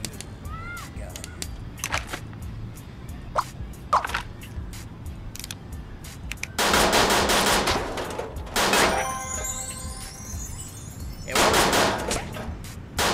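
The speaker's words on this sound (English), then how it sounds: "Machine gun." Machine gun firing in the Scribblenauts game during a carnival games level, scattered sharp single shots and clanks followed by loud sustained bursts of rapid fire, with a brief spoken word.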